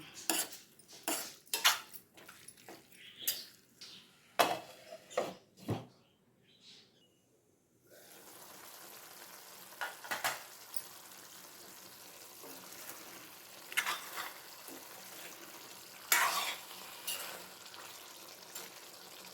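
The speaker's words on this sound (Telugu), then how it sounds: "దీన్ని ఇలా బాగా కలుపుకోవాలి." Metal spoon scraping and clanking against a pan while gongura chicken curry is stirred, a run of sharp irregular clinks followed by a quieter stretch of low simmering sizzle with occasional further scrapes.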